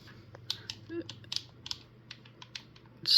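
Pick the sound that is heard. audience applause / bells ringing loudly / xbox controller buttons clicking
xbox controller buttons clicking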